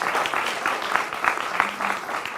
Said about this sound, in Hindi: जोरदार तालियों से इनका स्वागत करिए